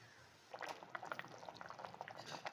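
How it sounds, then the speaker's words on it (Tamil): A pot of sambar with pumpkin bubbles at a steady simmer, faint soft pops and gurgles crowding together in a quiet kitchen. "இது நல்லா கொதிக்கட்டும்"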